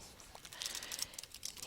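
Quiet typing on a computer keyboard, a quick uneven patter of light key clicks close by with no voices.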